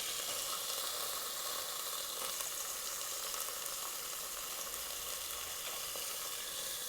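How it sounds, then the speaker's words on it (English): Burger patties sizzle steadily in a hot pan, a dense, continuous frying hiss that stays even throughout with no voices. "While these burgers are cooking"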